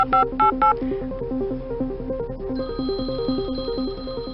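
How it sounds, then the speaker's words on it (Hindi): A phone rings with a repeating electronic melody, a steady looping ringtone pattern, close and fairly loud, with a brief higher beep tone near the start. "घंटी बज रही है।"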